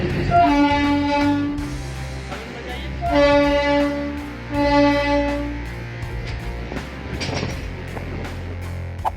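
A train sounds its horn in several long blasts, then the rumble and rattle of rail cars passing continues, fairly close and loud.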